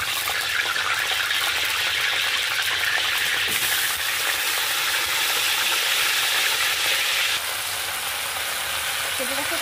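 Cut cauliflower frying in hot white oil in a wok, a loud, continuous hiss and crackle of sizzling that shifts in tone as the pieces are moved around.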